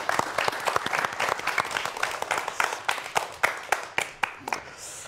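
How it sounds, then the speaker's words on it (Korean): An audience claps at a science lecture on nanomaterials, a crowd's applause with distinct sharp claps standing out in the wash, fairly close and loud, tapering into sparser individual claps toward the end. "여러분 큰 박수 부탁드립니다"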